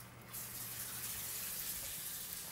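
A kitchen tap runs steadily while mint is rinsed under it, a close, even hiss of running water that goes on for a couple of seconds.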